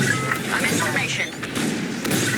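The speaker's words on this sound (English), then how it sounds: "Our Corvette is taking heavy fire." Heavy blaster fire striking a Corvette in Star Wars Squadrons, a steady barrage of booming impacts and zapping bolts, loud and continuous, with voices talking over it.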